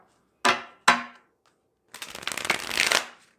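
Two crisp tarot card snaps, a brief pause, then a longer riffling shuffle of the tarot deck, close and clear in a quiet room.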